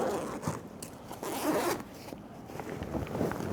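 A bag's main pocket zipper drawn open in several quick, close raspy pulls, fairly quiet and with no talking over it.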